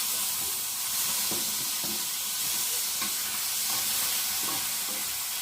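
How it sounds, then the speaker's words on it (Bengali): Prawns fry in a small amount of hot oil in a home kitchen, giving a close, steady sizzle and hiss with occasional soft stirring clicks and no talking. "তো চলো এবার তেল আছে অল্প, ওই তেলের মধ্যে চিংড়ি মাছটা একটু ভেজে নিই।"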